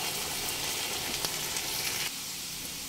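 Ground poppy seed paste and green chillies going into potatoes frying in oil for Bengali aloo posto, giving a steady dense sizzle that drops suddenly near the end, close and loud with no talk.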